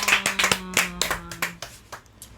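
A short burst of hand clapping, a handful of people applauding briefly with distinct claps that fade out after a couple of seconds.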